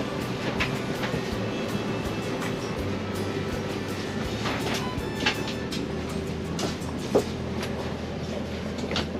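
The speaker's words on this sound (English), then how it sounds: "So we just boarded a train from Vienna" Steady rumble inside a passenger train travelling from Vienna to Prague, with continuous low-frequency rolling noise, faint rattles and occasional soft clicks and thumps throughout.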